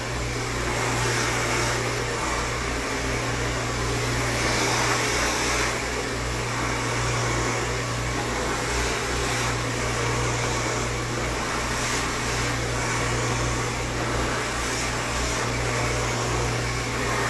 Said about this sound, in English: I'm ironing the hair with the blow dryer.